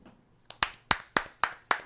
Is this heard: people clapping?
yes